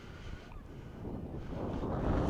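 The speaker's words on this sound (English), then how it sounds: "Hopefully this wind dies for us a little bit" Wind gusts across the microphone outdoors at a slowpitch softball batting session, a continuous low rumble that swells toward the end.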